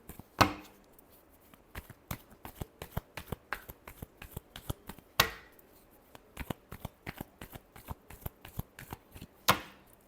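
Tarot cards are shuffled by hand close up: a quick, uneven run of soft flicks and slaps, with three louder riffling bursts spaced through the sequence and no speech.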